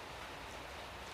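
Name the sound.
rain falling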